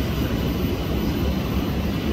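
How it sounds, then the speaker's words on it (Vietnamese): A Vietnam Airlines Airbus A350 taxis into a parking stand at the domestic terminal of Noi Bai International Airport, its engines giving a steady, loud, broad roar with a low rumble underneath, close by and without voices. "Chiếc máy bay đang tiến vào bãi đỗ ở nhà ga quốc nội sân bay quốc tế Nội Bài."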